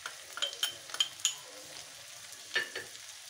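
Spices including red chilli go into frying chicken with bitter gourd (karela), giving a soft sizzle under a few sharp clinks and scrapes of a spoon stirring against the pot.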